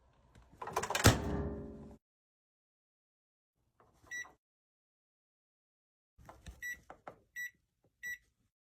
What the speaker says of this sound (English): Oh, I actually did hear the microwave.